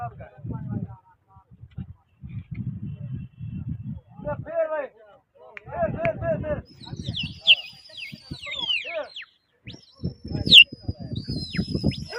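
Pigeons heard among chirps and coos, while people talk in short bursts throughout and sharp whistled calls rise near the end.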